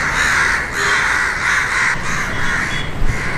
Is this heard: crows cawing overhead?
yes